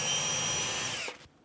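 A power drill bores upward into an 800/1000 mm IT Range wall unit while its frame is fitted, a loud close whine that runs briefly and then winds down to silence.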